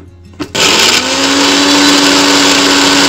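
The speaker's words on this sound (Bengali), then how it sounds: "এবার এটা মিক্সিতে পেস্ট করে নেব।" A kitchen mixer grinder whirs into action after a brief click, then runs loud and steady, blending coconut, ginger and salt into a paste, with its motor whine holding a constant pitch.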